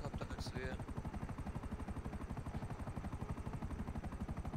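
Helicopter rotor in GTA gameplay, a steady rapid thumping chop running throughout at close range, with a brief higher electronic game tone near the start.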